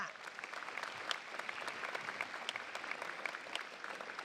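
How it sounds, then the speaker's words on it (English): A crowd in a school gym applauds a university president at a city's State of the City event, steady dense clapping that carries evenly throughout without talk. "please, one more time, a round of applause for the president, everybody"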